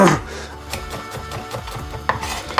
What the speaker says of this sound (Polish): Cebulę również pokroję w takie dłuższe piórka